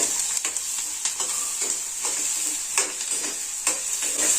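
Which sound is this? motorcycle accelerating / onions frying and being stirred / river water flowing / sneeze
onions frying and being stirred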